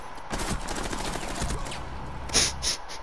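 Gunfire in the tactical shooter video game Rainbow Six, a dense volley of shots followed by a sharper, louder burst near the end.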